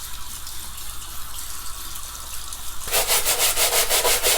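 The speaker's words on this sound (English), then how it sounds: "Just let the water run through the upper to see what's going on." Tap water running through the upper of a trail shoe during cleaning, a steady close rushing and spattering that starts soft with faint rubbing, then swells into a loud, pulsing gush for the last second and a half, with no talk.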